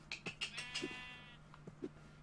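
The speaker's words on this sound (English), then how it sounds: "Here's your fucking sheep. Oh my god, them sheep's huge." Minecraft sheep bleating in a virtual reality game world, a run of quick, nasal bleats close by, then a pause and two shorter bleats, with no voices.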